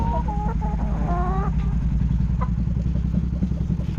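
Laying hens cluck in a series of short, repeated calls near the start, with another brief call later, over a steady low rumble in the background.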